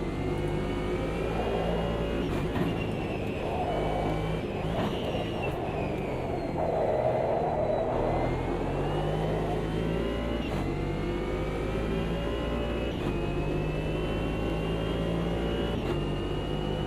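Race car engine revving hard and accelerating down a straight in a sim racing game at Sim Pub, a steady loud whine with rising pitch as it pulls away from a Porsche at high speed, sustained throughout.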